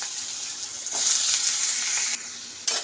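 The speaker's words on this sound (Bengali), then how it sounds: "এবার আমি আলুগুলো দিয়ে দেবো।" Potatoes go into hot oil in a pan for aloo posto with whole cumin, and a bright hissing sizzle rises and holds steady, close up, with a small clatter near the end and no talking.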